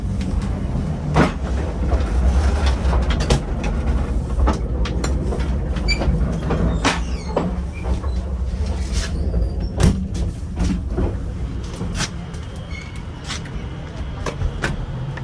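A train rumbles close by with irregular clattering wheel clicks and metallic knocks, a muffled voice briefly heard beneath the noise.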